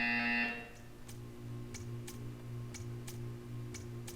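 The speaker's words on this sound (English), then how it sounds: "You will hear a buzzer." Buzzer in the video game Portal 2: after a brief loud tone fades, a low electronic hum pulses steadily while faint regular ticks repeat about every half second.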